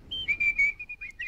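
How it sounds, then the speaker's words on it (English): A short, high, clear whistled phrase from a Sherlock Holmes film scene, a few quick notes and one held tone, heard alone and at moderate volume. "Why are they whistling?"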